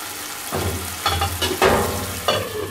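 Whole cumin and green chilies fry in a pan, a steady sizzle with several bursts of crackling and scraping as the spices are stirred, close and without any voices.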